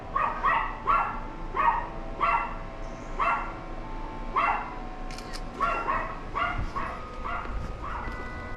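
A dog barks in repeated short yips and woofs, fairly close, in steady bursts with brief gaps, alone without talk.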